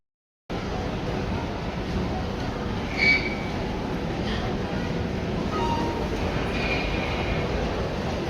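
A metro train runs through a busy station, with a continuous loud rumble of wheels and rail noise after an abrupt start, plus brief higher squeals from the wheels.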